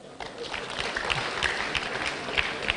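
Audience at a public lecture on reproductive health innovation clapping steadily for a few seconds, a dense even patter with a few voices mixed in.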